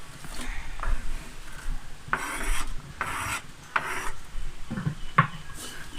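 Onion and curry leaves are stirred into hot spiced coconut oil with a spoon or spatula, a series of scraping, rasping strokes against the pan in an uneven rhythm, close and fairly soft.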